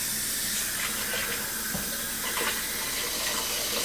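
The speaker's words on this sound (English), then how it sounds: "So you're actually putting in quite a bit of water." Tap water runs steadily into a pressure cooker holding soup bones, a continuous broadband splashing pour lasting the whole moment, close and fairly loud, with no talking over it.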